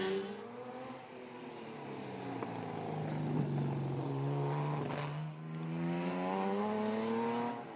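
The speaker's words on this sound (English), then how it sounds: "the Holden 6 with triple carbs does sound good when it's working hard" A Holden six-cylinder race car with triple carburettors drones past at a sprint meeting, its engine note rising and sweeping in pitch as it works hard, loud and sustained throughout.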